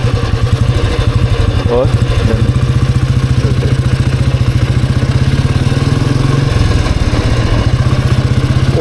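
A Royal Enfield Bullet motorcycle engine thumps steadily while riding, loud and close, with its rhythmic low beat continuing throughout and a brief word spoken over it.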